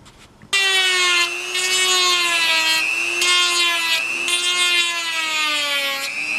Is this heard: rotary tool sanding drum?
yes